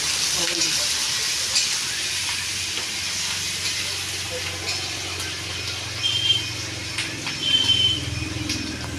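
Onions frying in oil for a mutton curry make a steady broadband sizzle with soft hissing and light stirring scrapes, clear and continuous with no talk.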